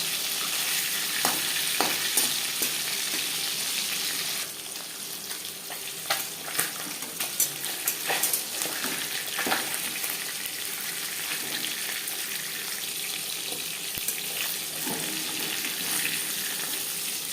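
Shol fish fries in a pan with a steady close sizzle and hiss, broken by scattered crackles and pops from the oil.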